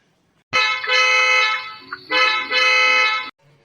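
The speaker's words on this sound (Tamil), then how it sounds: "எதுக்கு ஹார்ன் அடிச்சிட்டு இருக்கான்" A loud, sustained car horn blares twice in close succession, long blasts nearby with a brief gap between them.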